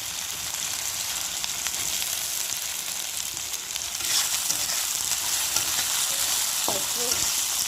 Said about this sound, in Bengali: একটু আলুটি ভেজে নিই, আলুটি ভাজা তো একটু সুন্দর করে।